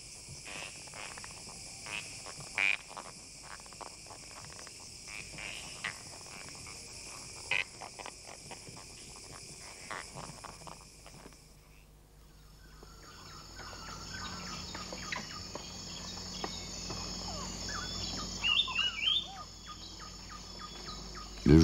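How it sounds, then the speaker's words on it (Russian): Toads and birds call at night in a Borneo mangrove forest, layered over a dense, continuous drone of insects, with occasional sharp chirps and clicks rising through the nocturnal chorus. "жабы и птицы исполняют для них ночную серенаду"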